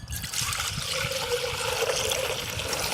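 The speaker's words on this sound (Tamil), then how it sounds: "பிஸ்தா பைப் ஐஸ் செய்யறதுக்கு பால் ஊற்றிக்கலாம்." Milk poured into a container for pistachio pipe ice, a continuous close liquid pour and trickle lasting the whole few seconds without a break.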